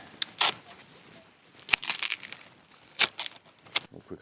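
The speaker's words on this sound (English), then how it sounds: "Cutting back any of this dying and dead material." Dead, mushy leaves are cut back from a Musa basjoo banana plant being overwintered in the UK, giving a series of crisp, crunchy snips and tearing rustles close by, spaced irregularly with quiet gaps between.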